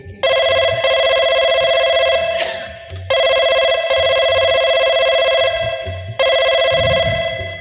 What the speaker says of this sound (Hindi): जरा प्रधान जी के पास फोन लगा फोन